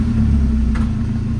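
A Saab 900 Turbo engine runs in a steady, loud, close idle rumble just after firing up, with no talk over it.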